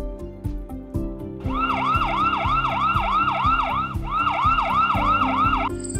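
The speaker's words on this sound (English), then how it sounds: "We've got a siren." A wailing siren sweeps up and down in steady repeated cycles, loud and close, over a low rumble of traffic, then cuts off near the end.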